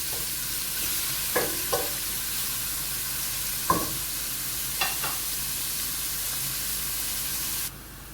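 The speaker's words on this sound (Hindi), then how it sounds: "8 मिनट हो गए मुझे प्याज को लाइट ब्राउन करते हुए।" Steady sizzling of onions browning in a pan over full heat, with a few soft clinks and scrapes of stirring, then the sizzle drops away near the end.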